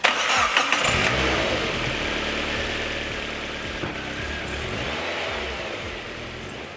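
A turbocharged 2002 Mazda MX-5 SP engine cranks and catches, revs briefly, then settles into a steady, loud idle close by.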